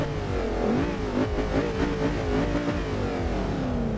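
Inside the cabin of a 2005 Mercedes-Benz SLR in Forza Horizon 2, the exhaust drones steadily and loudly, engine pitch wavering slightly as the throttle is held and eased.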